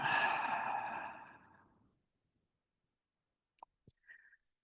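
A single long, steady exhale during a yin yoga sphinx pose: a soft, breathy rush that starts full and close, then fades to silence over about two seconds, followed by a few faint small clicks.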